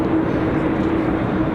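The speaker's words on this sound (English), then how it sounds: "Another Dreamliner in." A Boeing 787 Dreamliner arrives at Raleigh-Durham airport, its engines a steady low roar that stays even through a short moment.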